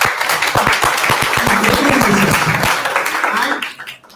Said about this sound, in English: You will clap for that.